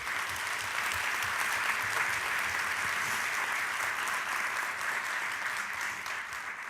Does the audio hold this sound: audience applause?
yes